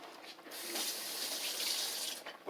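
Water from a kitchen tap runs into a bowl in a steady hissing stream for a couple of seconds, fairly close, with no speech over it.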